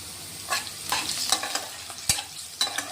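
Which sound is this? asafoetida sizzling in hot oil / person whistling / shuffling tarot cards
asafoetida sizzling in hot oil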